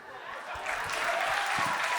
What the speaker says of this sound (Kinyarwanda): Amashyi menshi cyane kuri afande wacu, amashyi menshi cyane ku ngabo zacu.